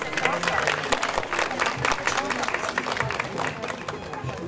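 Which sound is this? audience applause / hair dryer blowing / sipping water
audience applause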